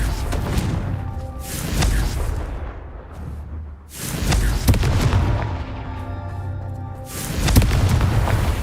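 Confringo blasting spells going off in Hogwarts Legacy, several heavy booming explosions in succession, each a broad roaring burst with a rumbling tail, loud and close.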